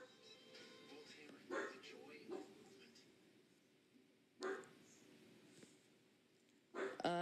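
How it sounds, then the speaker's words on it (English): A dog barks in three separate sharp bursts, spaced a few seconds apart, with quiet muffled sound in the gaps. "He's yelling at the dog who's barking, who's not supposed to be barking"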